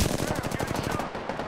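Rapid automatic gunfire in a shooter video game, a dense rattling burst of close shots that trails off after about a second.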